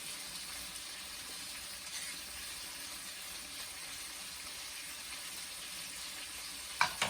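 Shrimp and clams simmering in a pan for spicy linguine, giving a steady, even hiss of sizzling that holds faintly the whole time, with a couple of small knocks at the very end.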